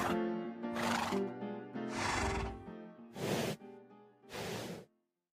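Minecraft horse neighing in a series of whinnies with airy breathy bursts between them, clear and close, then stopping abruptly, with no talk.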